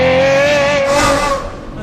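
An Aston Martin V12, rear-wheel drive, roars loudly with a rising, sustained engine note for nearly two seconds before easing off and fading slightly at the end.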